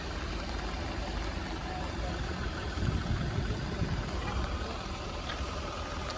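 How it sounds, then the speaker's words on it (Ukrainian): Steady low diesel rumble from an idling 2014 three-door Volkswagen Polo at an outdoor used-car market, a constant drone with a brief swell midway and voices faintly in the background. "Дизельний двигун."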